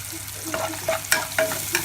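Onion, garlic and capsicum frying in a pan for a mushroom pepper fry, stirred with a spatula: a short burst of close sizzling with several distinct scraping strokes in quick succession, no voices.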